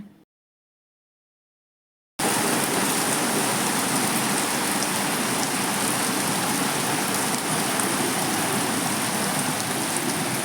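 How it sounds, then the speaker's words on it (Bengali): Heavy monsoon rain pours outside an opened door, a dense, steady wash of falling water that starts suddenly after a short silence and continues loud and even. "দরজাটা খুলে দেখাচ্ছি দেখুন কেমন বৃষ্টি হচ্ছে"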